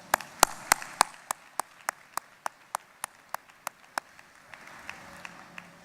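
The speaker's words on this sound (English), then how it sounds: "Let's give them a round of applause as well" About eighteen crisp, evenly spaced claps ring out at a leadership event, each sharp clap standing alone against a quiet room and fading slightly toward the end.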